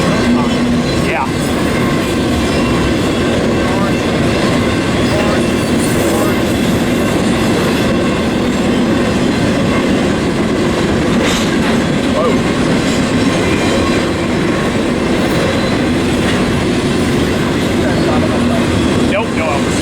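A freight train pulled by five locomotives rumbles past close by near Barstow, California, loud and continuous, with rolling wheel noise and occasional rhythmic clacks throughout.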